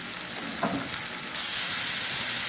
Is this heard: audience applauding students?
no